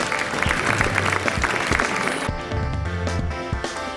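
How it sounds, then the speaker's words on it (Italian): Audience applause at a Miss Blumare Veneto bikini and casual beauty pageant evening, a steady wash of clapping over booming background music that thins out partway through. "che vorrei fare un grosso applauso."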